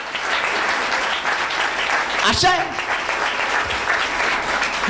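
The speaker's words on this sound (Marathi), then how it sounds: "टाळ्या वाजवा बरं." Church congregation claps in a dense, sustained round of applause filling a hall, continuing steadily while a preacher speaks over it.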